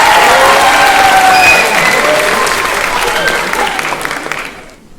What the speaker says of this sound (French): On les applaudit, on les encourage un peu.